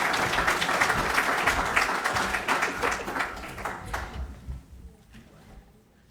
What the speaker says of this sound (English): Let's give Nicole a round of applause as she comes forward.